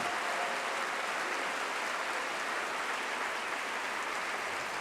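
An audience greets a speaker at a climate change talk with steady, far-off applause, a soft, even hiss of many hands clapping together that never stands out sharply.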